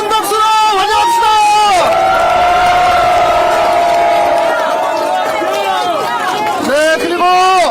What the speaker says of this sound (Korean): 뜨거운 박수로 환영합시다.